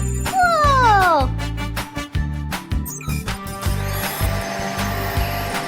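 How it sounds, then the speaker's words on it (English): Cartoon vacuum cleaner roaring to life in a children's animated show: a whooshing, hissy motor drone rises after playful whistling slide effects and bright musical jingles. "Everything is quiet until the vacuum cleaner wakes up."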